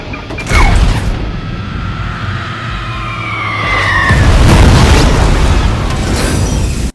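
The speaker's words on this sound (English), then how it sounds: "after this massive explosion takes out the USS" A massive explosion destroys the warship USS in the film Jonah Hex, rolling as a loud sustained boom with a second surge of blast and debris noise partway through, heard alone.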